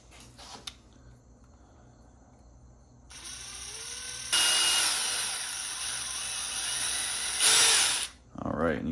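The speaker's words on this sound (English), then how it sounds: "you can see the drill fits right down in there, and then I'll come out through the top like that" A power drill boring into an Arrma Limitless RC car chassis, starting after a quiet stretch and then whining steadily and close, growing louder partway through before stopping.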